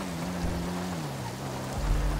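Rain falling in the FiveM driving game, a steady broadband hiss heard alongside a low engine hum that shifts in pitch, with no talk over it.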